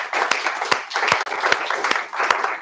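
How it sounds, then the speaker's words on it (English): Audience applause after an invited history lecture in an Oxford hall, moderately loud with distinct individual claps audible in a steady rhythm throughout the short burst. "we'll give you a big round of applause."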